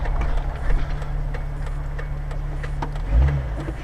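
A 1998 Jeep Cherokee built up for offroad, in drive on a small hill, its engine giving a steady low drone under full throttle, with a brief louder surge near the end.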